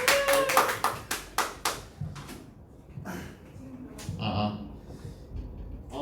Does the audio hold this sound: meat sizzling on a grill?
no